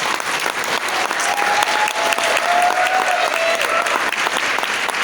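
An audience at an Amway business seminar in Thailand bursts into sustained, dense applause, loud and steady throughout, with no voices over it.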